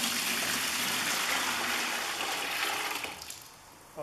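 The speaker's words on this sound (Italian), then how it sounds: "Travaso l'acqua bollente." Freshly boiled water pours into a bucket while preparing a resin floor: a steady, close, rushing gush for about three seconds that thins into a trickle and fades.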